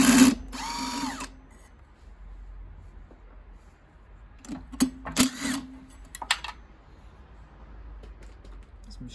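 A power drill loosens a screw on a Creda Debonair Autopump laundry spinner: a loud whirring burst at the start, then quieter clicks and a few short buzzing bursts midway, heard up close.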